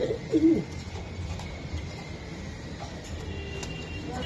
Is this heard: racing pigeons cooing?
yes